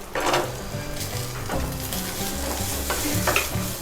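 Ginger, garlic and lentils sizzle in a hot pan as they are stirred, close and loud, with rhythmic scraping strokes over a continuous frying hiss.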